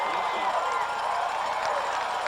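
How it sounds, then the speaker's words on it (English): A football stadium crowd at a 1997 high school state championship game roars in a steady, dense wash of cheering just after a hard tackle, continuous and fairly loud throughout. "that just spurs the crowd to a little more noise out there"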